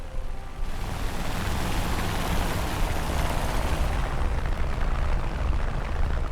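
Bombs exploding in an RAF bomber attack on a crowded airfield, a continuous dense roaring rumble of blasts with no distinct gaps, loud and sustained.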